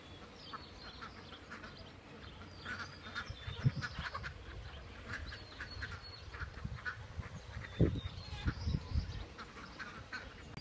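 Ducks quacking on a free-range farm, a flock calling repeatedly at moderate distance with several louder quacks standing out over steady outdoor background noise.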